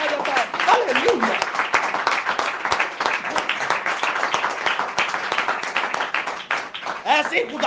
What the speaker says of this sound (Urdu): میرے یسوع کے لیے ایک بار زوردار تالیاں